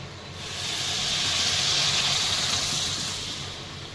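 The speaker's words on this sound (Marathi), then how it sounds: "आता यामध्ये मी पाणी टाकून घेत आहे." A steady, loud hiss swells up and fades away over a few seconds as water is poured into a hot pan of spiced farsan curry base and sizzles.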